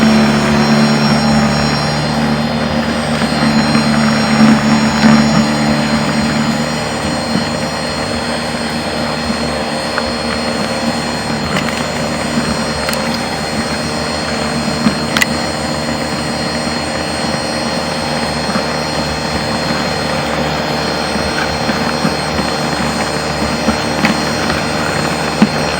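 Ego cordless electric snowblower throwing snow while clearing a driveway, a steady loud whirring roar of motor and auger that holds nearly constant throughout with no talk.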